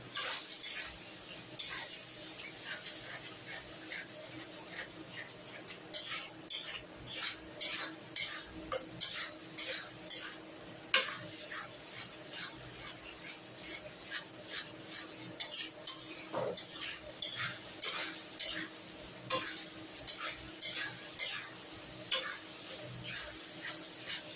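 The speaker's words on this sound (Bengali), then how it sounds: "দিয়ে এবার আমি মশলাটাকে একটু কষিয়ে নেব।" Spice paste with salt and a splash of water being stirred in a pan for a prawn, coconut and banana flower dish, with repeated close scrapes and taps of a spoon in an irregular rhythm over a faint sizzle.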